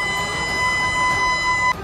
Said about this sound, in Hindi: इस दौरान वहां खतरे का सायरन लगातार बजता रहा।